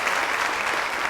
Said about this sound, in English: Big round of applause for Gwenda.